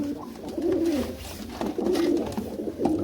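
Large pigeons coo nearby in repeated low, throaty, rolling calls, several phrases overlapping against faint background noise.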